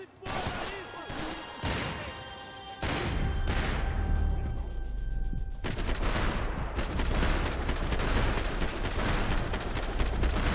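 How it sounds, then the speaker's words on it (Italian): Rapid bursts of gunfire in the PC game Max Payne 3, several volleys with short pauses, then a sustained loud stretch of automatic shooting. "Guardi quanti colpi ho sparato e non l'ho ucciso."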